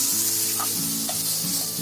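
Vegetable filling for a mushroom frankie stir-fries in a pan, a close, steady sizzle with a spoon stirring and scraping through the short stretch, no talking.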